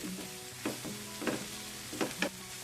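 Chopped cabbage sizzles as it fries in a pan, with a few distinct stirring scrapes spaced about half a second to a second apart over a steady low hiss.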